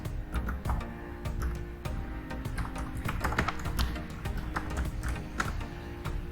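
Typing on a computer keyboard while entering city names into an Excel spreadsheet, a close, fairly quiet run of irregular key taps and clicks with small pauses between bursts.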